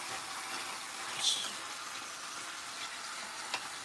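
Meat sizzling in a small frying pan, a steady soft hiss of frying with a brief louder crackle near the start and a faint pop later, heard fairly close.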